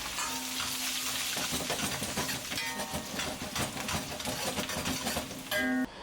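Dried Sichuan peppercorns and dried chilies sizzling in hot oil in a wok, a loud, dense, continuous crackling hiss close up, with a short metallic clink near the end.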